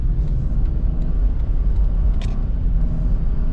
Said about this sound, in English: I'm pulling out onto a fast road, so let's see how we get each gear